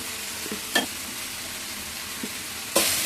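Cooked noodles with noodle powder are stirred in a pan over low heat, a soft continuous sizzle broken by a few brief scrapes and taps of the utensil against the pan.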